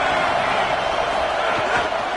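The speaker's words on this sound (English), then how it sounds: "This crowd ready to make its presence known." Dense stadium crowd roar from a college football video game, a steady wash of distant cheering and shouting with no break over a couple of seconds.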